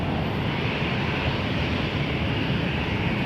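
Regional jet rolling for takeoff at Toronto Pearson Airport, a continuous broad engine roar at steady loudness with no voices.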